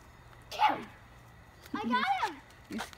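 A puppy gives short yipping barks outdoors, a single bark then a longer wavering burst and another brief yelp, close and fairly loud with quiet gaps between.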